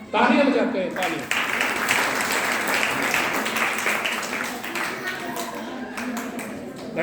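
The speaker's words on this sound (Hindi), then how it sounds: "तालियां बजाते हैं, तालियां।" An audience at an Arya Samaj computer center opening ceremony claps together, a loud, dense burst of applause that holds steady across the whole stretch, with voices speaking over it.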